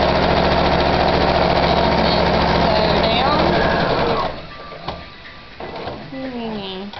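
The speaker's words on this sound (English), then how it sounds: "and just sew down the edge" A sewing machine stitches down a folded fabric edge with a loud, fast, steady motor whir for about four seconds before stopping, followed by softer handling noises of the fabric.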